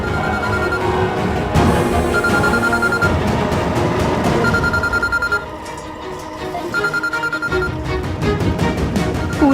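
A telephone rings in repeated short bursts of a bright tone, spaced regularly under louder dramatic background music.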